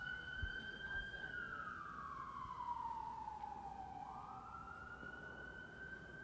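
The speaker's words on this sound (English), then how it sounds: "Let's wait for this siren to go by." An emergency siren passes outside during a Los Angeles press conference, a steady wail that gradually falls and rises in pitch, distant and muffled through the room.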